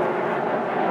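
An airplane passes overhead as a steady, distant low rumble and hiss with no talk over it.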